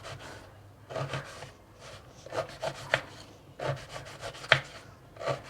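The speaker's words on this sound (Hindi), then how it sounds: "ये सारे अपने अमरूद काट के और इसको कुकर में डाल दूंगी।" Guavas are chopped with a knife for homemade jam, a series of separate soft cuts and thuds against a board at an uneven pace, close and moderately loud.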